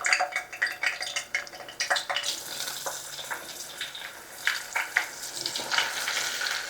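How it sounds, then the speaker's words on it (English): Onions dropped into hot oil crackle and sizzle loudly in uneven bursts, then settle into a busy, steady frying hiss heard close up with no talking. "Let's go ahead and drop in some onions."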